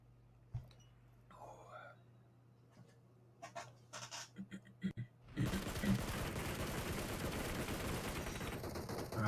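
Rapid gunfire in an esports shooter video game match, quiet scattered shots at first, then a dense, loud continuous barrage of firing from about the midpoint onward, with a commentator talking over it.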